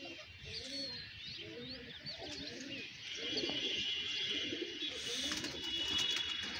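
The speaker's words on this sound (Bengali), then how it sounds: "আর কিছু বড় কবুতর সাথে আছে, সাপোর্টিং হিসেবে থাকে।" Pigeons in a loft, a steady chorus of low throaty coos repeating close by, with faint chirps and rustling behind them and no talk.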